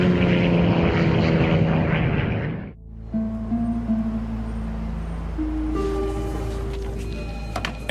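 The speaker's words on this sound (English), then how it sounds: "a 19-passenger plane plunges towards the Earth" A loud, dense roar of a diving 19-passenger propeller plane, Air Midwest Flight 5481, fills the first few seconds, then cuts out abruptly into a quieter hum with steady tones and beeps.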